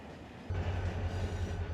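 A train rolling along in the Run 8 train simulator game, a steady low rumble with a heavy droning engine tone that kicks in after a half-second and holds, close and fairly loud with no talking.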